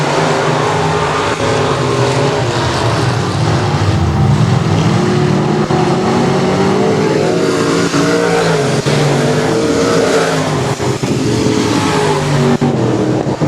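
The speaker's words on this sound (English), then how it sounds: "Aaron Roy going to flirt down to the inside of the number 2B for the race lead" Several race cars roar around the Texarkana 67 Speedway oval in a loud, continuous, overlapping engine drone with shifting pitches as they pass, and a commentator talks over them.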